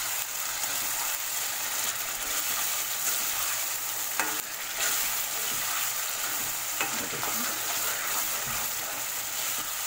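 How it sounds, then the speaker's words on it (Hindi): Chicken fries in ghee with a steady, bright sizzle throughout, broken by occasional scraping stirs of a utensil and a few soft knocks against the pan. "थोड़ा सा ये भी थोड़ा सा फ्राई कर लीजिए चिकन"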